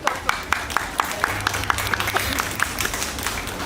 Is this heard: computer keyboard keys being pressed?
no